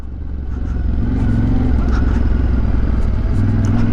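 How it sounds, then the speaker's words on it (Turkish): A Yamaha Tenere 700 motorcycle engine rumbles close by on dirt and builds in a low, throaty drone as it accelerates, holding a steady loud roar. "O egzozun verdiği ses öne bir atılma yırtıyor ortalığı"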